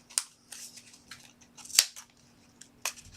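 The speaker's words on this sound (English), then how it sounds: "and start cutting" Scissors snip through a paper card folder in several sharp, separate cuts, close and crisp, with quiet pauses between them.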